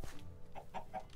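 Chicken clucking in the video game Minecraft, a few short clucks in a quick run, moderately close and fairly quiet.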